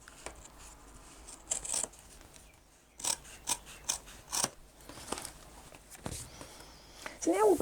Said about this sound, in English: so I'm just cutting along the edge.